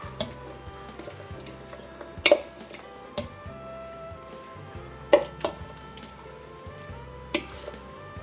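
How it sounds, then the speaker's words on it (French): Pot of pondu, cassava leaves cooked with plenty of vegetables, simmering on the stove: a soft steady bubbling and sizzle under faint kitchen hum, with a few sharp clinks of utensils against the pot. "Voilà, donc mon pondu continue à mijoter."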